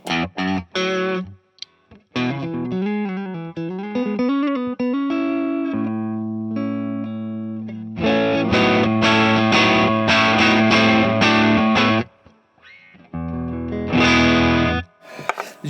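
An electric guitar runs through a NuX effects pedal in shine mode, playing shimmering sustained chords and bent single notes with heavy modulation and reverb-like tails, broken by short pauses, with no talking.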